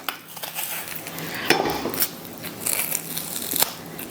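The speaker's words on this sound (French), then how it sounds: "Moi, je coupe un oignon, fait que ça va me faire pleurer." A knife chops an onion on a board, a few close, uneven cuts and taps with crunchy crackles between them, fairly quiet, with no talking.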